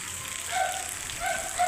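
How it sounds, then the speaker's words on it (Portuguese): Rain falling steadily in Itaitinga, Ceará, a soft, even hiss of drops pattering on surfaces with faint swells of intensity, no voices present. "Chuvinha boa nesse domingão"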